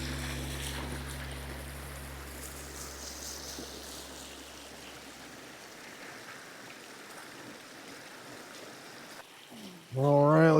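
Water flowing in a stream along a hiking trail near Nugget Hill in Roosevelt National Forest, a steady broadband rush heard close by. A low hum fades out early on, and a loud burst of noise cuts in at the end.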